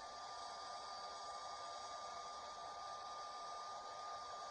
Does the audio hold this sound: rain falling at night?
no